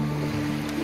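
Water waves washing along the shore at a Florida Panhandle campground, a steady close wash of surf with a low constant hum beneath, heard alone.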